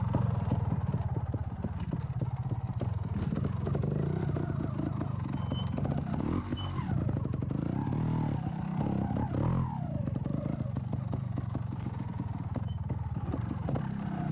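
A trial motorcycle, ridden by Marc Colomer, climbs a set of steps at constant throttle, its engine droning steadily with clattering knocks from the suspension and tyres striking the ledges, loud and close throughout.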